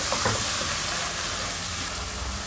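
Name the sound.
onions frying in a pan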